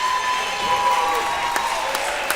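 Crowd applause and cheering from home fans at a regional varsity basketball game as the starters leave the court, a steady clatter of clapping with a few sharp claps standing out.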